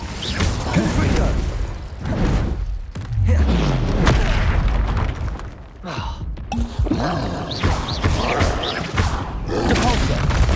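Confringo explosive spell blasts in the video game Hogwarts Legacy, several deep booming explosions with rumbling roars and thuds in quick succession, loud and close, mixed with game voices.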